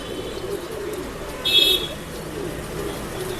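Male pigeons coo in a pet shop: a soft, low, continuous cooing murmur over room noise, with one brief louder call midway.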